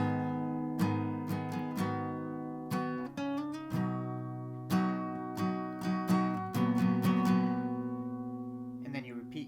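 An acoustic guitar strums chords from a song in a down-up pattern, ringing chords with clear strokes and a brief muted flurry at the end, played alone and close.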